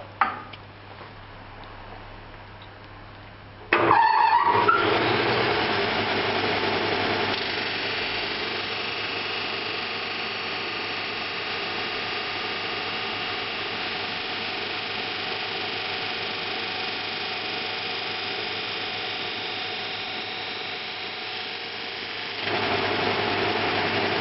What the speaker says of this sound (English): use the disc sander to sand off the excess amount of dowel